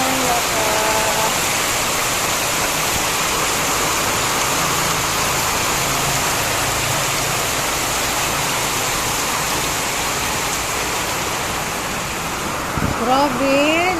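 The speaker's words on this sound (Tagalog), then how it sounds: "Grabe, lakas ng ulan." Heavy rain pours steadily in a dense, loud broadband wash, with a brief clatter near the end.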